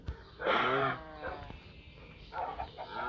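A single cow moo in a Minecraft-style video game, short and fairly close, followed by a softer second call over quiet background noise.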